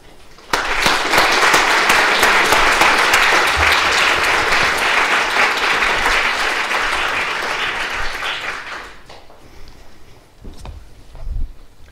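An audience applauds to welcome speaker Chantal Mouffe at a talk on democracy, with dense, loud clapping that holds for about eight seconds and then thins out to a few last claps.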